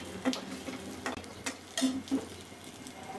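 Bay leaf, dried chillies, cardamom and cumin crackle in hot oil, a steady close sizzle broken by scattered sharp pops and light taps of a stirring spoon.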